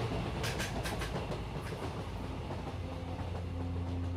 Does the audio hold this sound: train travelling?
yes